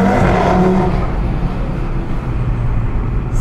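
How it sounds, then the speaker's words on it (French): An Audi TT with a five-cylinder engine roars past nearby, loud at first and then fading as it moves away in a short, broad rush of engine and road noise. "La TT elle fait quand même un bruit de ouf."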